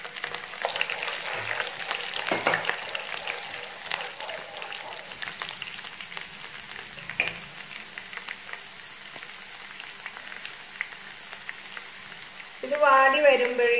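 Garlic and ginger sizzling in hot oil in a pan for pineapple pickle, a steady close crackle and hiss throughout that grows briefly louder and denser near the end.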